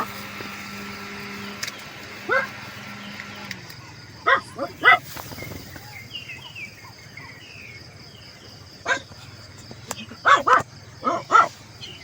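Dog barking at a farm resort campsite in Norzagaray, Bulacan, in short separate bursts of one to three barks at mid distance over steady insect chirring, with no one talking.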